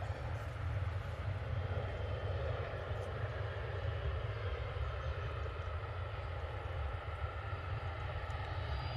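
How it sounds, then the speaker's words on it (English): Airbus A330 on its landing roll with thrust reversers deployed, a dense continuous rumbling roar with strong low end, steady and sustained throughout at moderate distance. "Nice bit of reverser action there from the A330"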